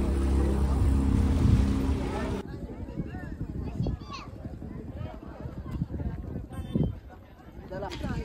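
A motorboat ride on foggy water, starting with a loud steady engine drone that gives way to water and wind noise while people talk over it.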